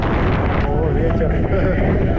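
Steady sea wind buffeting the microphone on a Crimean coastal route near Feodosiya and Koktebel in April, a constant broadband roar lasting throughout, with a voice speaking over it.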